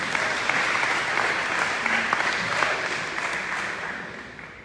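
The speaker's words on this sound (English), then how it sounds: "And you can clap for that one as well." Audience at a school district breakfast applauding steadily, dense and continuous clapping throughout that fades slightly toward the end.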